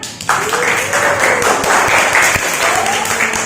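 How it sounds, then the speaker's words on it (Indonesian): A class of eighth-grade students in a school classroom claps together, a dense burst of applause that stays loud and steady for a few seconds, with faint voices mixed in. "Oke, terus saya tepuk tangan."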